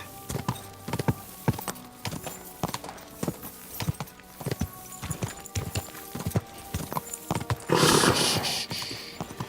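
Steady clip-clop of horse hooves at a trotting rhythm, close and clear, ending in a burst of noisy rushing sound, in the video game Kingdom Come: Deliverance II.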